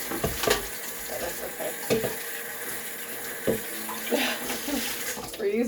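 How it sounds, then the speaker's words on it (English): Water runs from a sink tap as containers are rinsed, a steady hiss of flow broken by several splashing bursts as the containers pass under the stream, fairly close. "We're using the containers that just give them a good old rinse."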